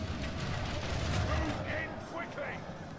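Dunedain Rangers fire volleys in a strategy video game, a muffled rumble of distant shots with a few whooshing projectile sounds, heard under someone talking.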